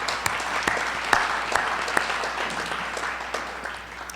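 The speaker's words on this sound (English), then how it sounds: "Let's give them a round of applause for their service." An audience at a high school board annual meeting applauds, a steady patter of clapping with a few sharper, louder claps standing out, moderately distant and continuing for several seconds before thinning.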